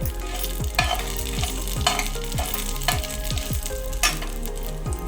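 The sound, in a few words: tomato pieces frying in a pan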